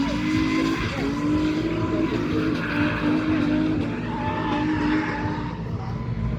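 A 300-horsepower Nissan 350Z drifting on the Nürburgring drift cup layout, engine roaring steadily at high revs with tire squeal, heard continuously from a moderate distance.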